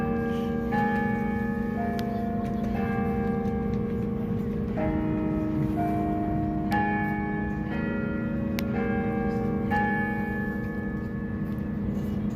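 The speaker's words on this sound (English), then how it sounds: "I could hear the bell." Church bells ring at noon in a steady, repeating pattern of struck tones that overlap and sustain, moderately loud and continuous, with a constant low hum underneath and no talking.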